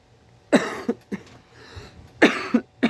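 Several harsh coughs come in two bursts, near and loud, with a short quiet gap and faint breathing between them.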